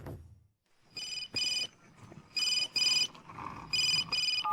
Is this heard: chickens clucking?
no